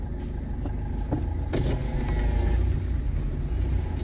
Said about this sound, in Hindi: अब निकालते हैं छोटी छोटी सी जगह में से गाड़ी